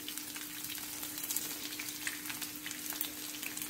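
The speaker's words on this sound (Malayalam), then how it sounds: "നമ്മൾ ചതച്ച് വെച്ചിരിക്കുന്ന ഒരു 5-6 അല്ലി വെളുത്തുള്ളി ചതച്ചതങ്ങ് ഇട്ടു" Five or six cloves of crushed garlic sizzle in hot oil in a pan for a Kerala-style pickled potato dish, giving a steady, soft crackling fry with faint stirring and no talk.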